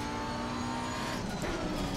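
A race car engine from the Assetto Corsa Competizione racing game holds a steady, dense drone under light throttle through a corner, with a slight tyre scrub near the end. No voices.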